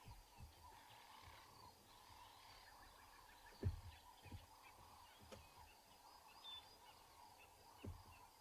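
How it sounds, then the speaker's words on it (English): Birds chirp and call softly in the distance at sunrise in Ngala Private Game Reserve, several overlapping voices in a quiet open space, with a few low thumps now and then. "And you can just hear all the birds calling."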